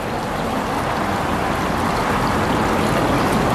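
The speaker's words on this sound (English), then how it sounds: "So I can hear the water flowing from below." Water flows steadily beneath a platform over a koi pond at a koi and goldfish farm in Japan, a constant rushing, trickling wash with no voices.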